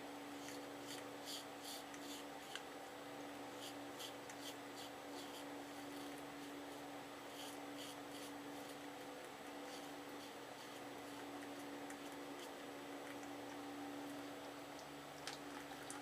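A Schick Injector safety razor scrapes against the grain in a quiet room, giving a faint, repeated rasping with short strokes in uneven clusters over a steady low hum.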